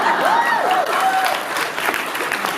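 An audience applauds, a loud dense burst of clapping with a few whistles rising over it near the start, then tapering slightly.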